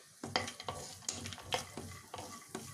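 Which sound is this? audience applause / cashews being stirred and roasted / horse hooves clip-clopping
cashews being stirred and roasted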